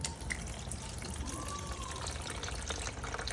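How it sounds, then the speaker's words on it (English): OEM green coolant trickles out of the radiator on a 2000 Honda Shadow 600 VLX motorcycle with 9,000 miles, a faint continuous splashing drain with a low background rumble. "Let that drain out."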